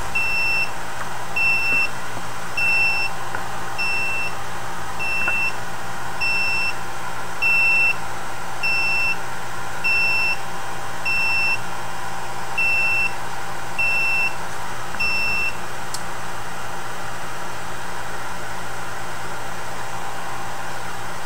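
An electronic device in fault mode emits a series of short, evenly spaced high-pitched beeps, about ten, over a steady background hum.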